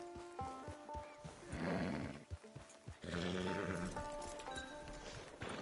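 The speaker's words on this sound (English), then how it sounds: "Get your horse." A horse in the Red Dead Online western game gives loud, close whinnies and snorts with some hoof clopping and layered game sounds, with no talk over it.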